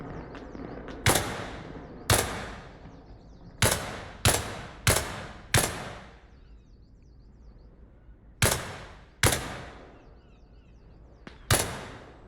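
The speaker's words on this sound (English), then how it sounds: "There's somebody shooting at me." Single gunshots ring out in a shooting video game, about nine sharp reports spread irregularly across the stretch, some in quick pairs, each with a short decaying tail over a quiet background.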